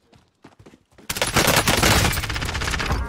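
Gunfire in the Modern Warfare Warzone video game: a loud, rapid burst of automatic shots erupts after a second of quieter sounds and keeps rattling close up until the end.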